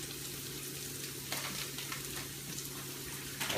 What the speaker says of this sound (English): we're just gonna brown this garlic, because that's what you do with garlic